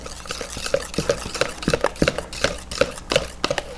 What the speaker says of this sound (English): Now we're going to whisk this until it's well combined.